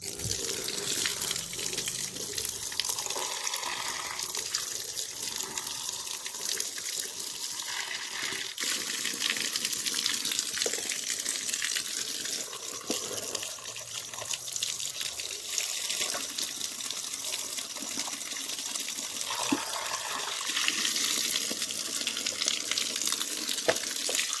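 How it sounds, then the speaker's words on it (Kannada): White shoes are scrubbed and trodden in water, giving a continuous close splashing and running-water wash with irregular sloshes throughout. "ಹಿಂಗೆ ತೊಳೆದು ನಾನು ಹಂಗೆ ನೀರಲ್ಲಿ ತುಳಿತೇನೆ ಹಂಗೆ ತೊಳೆದು ಇದು ಮಾಡ್ತೀನಿ"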